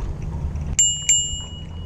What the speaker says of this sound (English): Way to ring the bell, ring the bell.